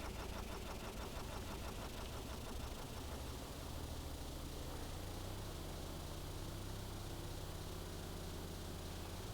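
Steady, dense engine drone of a vehicle held at forward throttle in the Stormworks sandbox game, a continuous loud rumble with a faint rhythmic knock and no talking.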